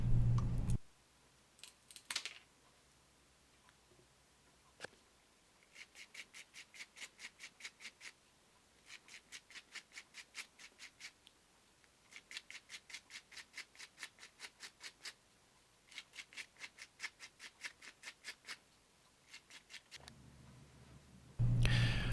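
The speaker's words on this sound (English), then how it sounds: "cutting the lip out with tin snips and then just sanding the edges with sandpaper" Quiet rubbing and scraping strokes come in short rhythmic bursts, sandpaper worked back and forth on an edge, with brief tin-snip clipping sounds at the ends and no talking, while making a fishing lure.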